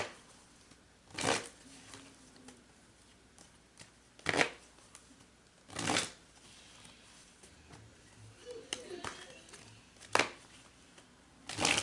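Tarot cards are shuffled in about six short, crisp riffling bursts spaced a second or two apart, close and fairly quiet, with a hushed room in between and no talking.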